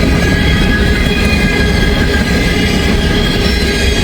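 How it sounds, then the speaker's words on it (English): A long, empty grain freight train rolls past close by, a loud, steady roar of wheels and cars with faint squeal, continuous throughout with no talk. "Empty grain train, but it is a good one."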